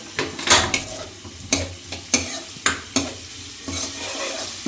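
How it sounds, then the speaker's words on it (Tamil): Onions for chicken biryani sizzle softly in a pan while a utensil stirs and scrapes them in quick, repeated strokes, close up, with no voices. "வெங்காயம் ஓரளவு வதங்கிடுச்சு"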